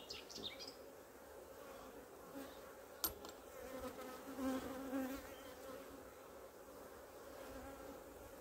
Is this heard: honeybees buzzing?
yes